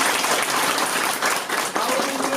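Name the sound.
students applauding, clapping for themselves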